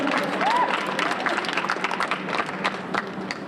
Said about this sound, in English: Go and clap.